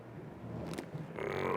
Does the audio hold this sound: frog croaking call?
yes